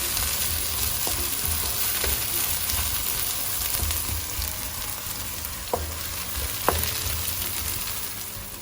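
Onions sizzle steadily in a hot pan, browning and softening for a potato and dried anchovy dish, with a continuous frying hiss broken by a few light scrapes and clicks of stirring, close and without talk.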